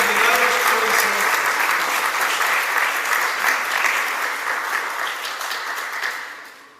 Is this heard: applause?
yes